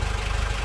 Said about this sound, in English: So this is the first test run with the new engine.